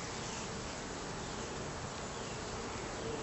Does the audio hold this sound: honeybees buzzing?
yes